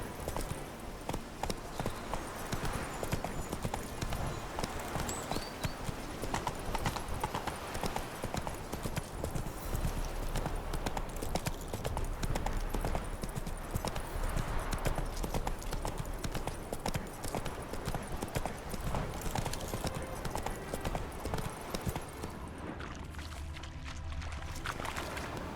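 Roach, a horse in The Witcher 3, gallops in a steady, loud clip-clop of hooves that carries on throughout, with a dense layer of game sound underneath.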